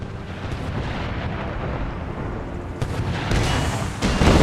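Artillery fire from cannons and howitzers in an American Civil War mod of Napoleon: Total War, a steady rumbling barrage of overlapping booms that swells louder near the end.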